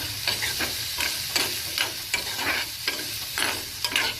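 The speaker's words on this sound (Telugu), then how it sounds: "పచ్చిమిర్చి, ఆనియన్, కొంచెం సాల్ట్, పసుపు వేసి మిక్స్ చేస్తున్నాను" Green chilli, onion, salt and turmeric fry together in a pan while a spoon stirs them in steady repeated strokes, each scrape rising over a continuous close sizzle.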